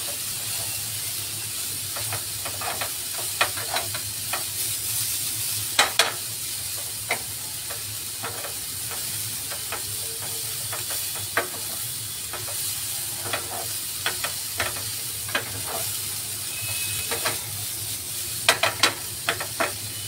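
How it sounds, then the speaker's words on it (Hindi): Chicken and corn samosa filling cooks on a slow flame, giving a soft, steady sizzle and hiss throughout, with scattered light clicks and taps of stirring. "कॉर्न को थोड़ा सा स्लो फ्लेम पर ही कुक करना है ताकि वो अच्छे से कुक हो जाए।"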